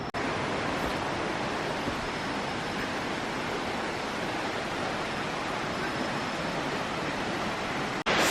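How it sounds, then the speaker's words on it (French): Waterfall in Munduk, Bali, roaring steadily as a dense, unbroken rush of falling water heard from across a steep valley, loud and constant throughout with no voices. "Et la cascade est en face."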